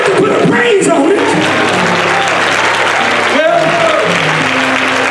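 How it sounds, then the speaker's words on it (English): A church congregation stands and claps their hands in praise, dense, loud sustained clapping filling the room while a preacher speaks over it. "Why don't you just stand and just clap your hand?"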